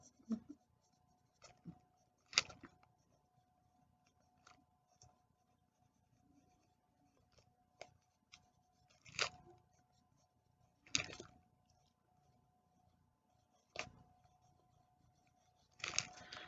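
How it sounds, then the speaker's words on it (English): A Dixon Oriole No. 2.5 pencil writes a sentence on paper, soft scratchy strokes broken by sparse, sharper taps and pauses, close and quiet. "So let's write a little bit more. Let's write a sentence,"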